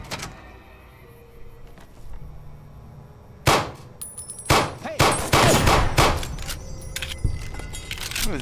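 Varmint rifle gunfire in the Fallout video game arrives as several loud, sharp cracks with metallic clanks and rattles, clustered in the second half after a quieter stretch of faint ambient noise, with no talk.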